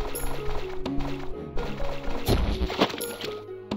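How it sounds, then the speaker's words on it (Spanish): An object tossed into water in the OceansHeart video game gives a sharp splash with liquid gurgles, set among game tones and clinks in a brief, busy passage. "Lo tira al agua."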